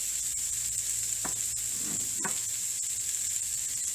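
Onions frying in a tablespoon of oil in a pan for matar paneer, a steady close sizzle throughout with two brief scraping stirs of a utensil partway through.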